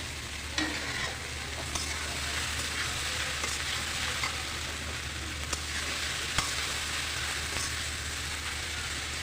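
Steady, close sizzling of okra coated in beaten egg frying in a pan, with a few faint scraping ticks over the continuous crackle.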